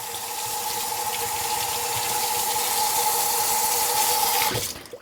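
Hands are washed under a running kitchen tap, a steady close rush of water lasting several seconds before it is abruptly shut off.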